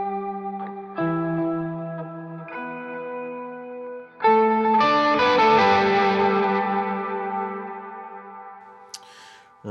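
Electric guitar riff played through an octave effect with washy reverb, clean sustained notes stepping through a short phrase, then a denser, brighter chordal swell that rings out and decays, loud and close with no talk.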